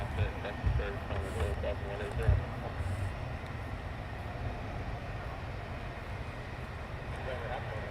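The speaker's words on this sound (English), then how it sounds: "And there goes your Herc. Out of RAF Lakenheath this afternoon." A Hercules transport aircraft departing RAF Lakenheath gives a distant, steady turboprop rumble and drone under a faint airy roar, with a person talking briefly near the start.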